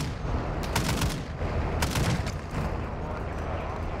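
Gunfire in the video game Call of Duty DMZ, heard during a vehicle drive: rapid bursts of shots cracking repeatedly over a steady loud rumble, with scattered volleys throughout.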